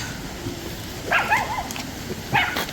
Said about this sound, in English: Yappy little dogs.